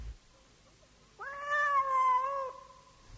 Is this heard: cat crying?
yes